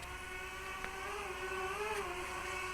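A drone's steady high-pitched motor whine with layered harmonic tones drones on continuously indoors over an HO-scale model railroad layout, shifting slightly in pitch, with no voices present.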